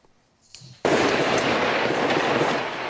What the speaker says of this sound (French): Le bruit des balles est très présent.